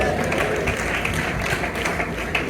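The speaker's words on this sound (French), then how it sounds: "On applaudit le Seigneur." A church congregation applauds, a continuous dense patter of many hands clapping at close range, steady and fairly loud across the whole stretch.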